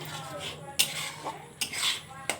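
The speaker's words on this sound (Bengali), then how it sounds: "এটা এখন টমেটোটাকে ভালো করে মিক্স করে নেব।" A spoon stirs tomatoes in a pan over a raised gas flame, giving three sharp metallic clanks against the pan with soft scraping between them, close and moderately loud.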